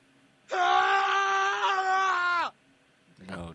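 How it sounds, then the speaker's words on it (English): A long, loud vocal scream or wail with a steady harmonic tone holds for about two seconds before cutting off, followed by a brief burst of voice. "How is there a scream?"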